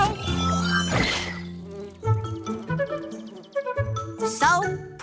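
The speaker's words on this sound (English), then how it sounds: "except for this annoying buzzing" An annoying insect buzz drones and whines among tonal music and cartoonish sound effects, with pitch swells and busy layered tones over about five seconds.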